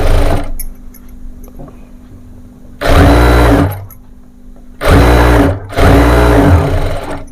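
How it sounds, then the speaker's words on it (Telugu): A sewing machine stitches the double-folded edge of a small child's frock in three short, loud bursts of rapid whirring, separated by quiet pauses, with no talking. "ఇలా టూ హ్యాండ్స్ డబుల్ ఫోల్డింగ్ మీద కుట్టేసేసుకోవాలి"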